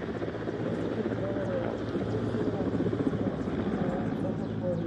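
Mi-171 helicopter flying at an air display, its rotor and engine producing a steady, loud broadband roar with a low thumping pulse, continuous throughout and mixed with a faint public-address voice.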